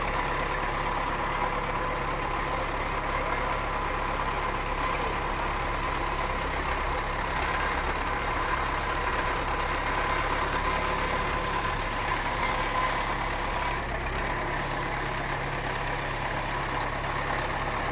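An old truck engine runs steadily for the whole stretch, a continuous low idling rumble with slight rises in revs, moderately loud and close with no talking over it.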